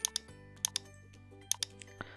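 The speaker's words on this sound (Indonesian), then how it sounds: "Kemudian saya cut saja, Ctrl X pada keyboard." Sharp keystroke clicks on a computer keyboard for a Ctrl X cut in Excel, several quick taps in pairs, close and fairly quiet over a faint steady hum.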